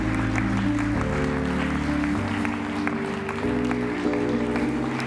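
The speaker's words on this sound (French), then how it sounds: "Applaudissez la parole de Dieu" Church congregation applauding during an evening service, a steady dense wash of clapping held throughout under a sustained bed of organ or keyboard chords.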